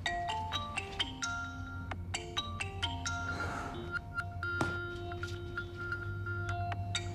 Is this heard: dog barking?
no